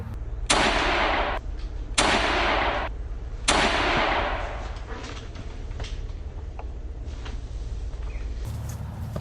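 Three heavy cannon or gun blasts in an animated American Revolution battle, each a loud broadband burst spaced about 1.5 seconds apart, then fading into lighter scattered pops and a low rumble.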